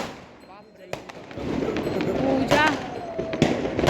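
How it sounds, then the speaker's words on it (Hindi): Diwali firecrackers bursting outdoors during a family celebration, sharp scattered bangs and crackles, some near and some distant, over a noisy crowd with people talking. "ये देखो यहाँ पे सब पटाखे उड़ा रहे हैं"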